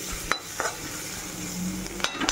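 Potato goes into a pan of sizzling onions, green chilies, salt and turmeric while being stirred; a steady frying hiss runs throughout, broken by several sharp scraping clinks of the spoon against the pan.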